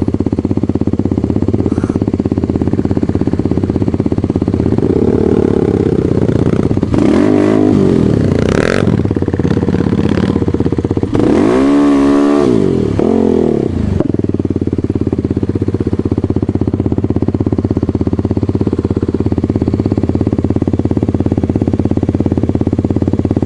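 A Kayo 110 motorcycle engine drones steadily, with a louder revving burst and clattering, scraping passages partway through as the bike rides over rough ground.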